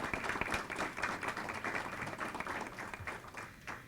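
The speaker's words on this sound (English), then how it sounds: "So if we could just do a quick round of applause for that staff, that would be great." Faint applause at an awards breakfast: a dense patter of many hands clapping together from a distance, fairly even throughout the few seconds and tapering slightly at the close.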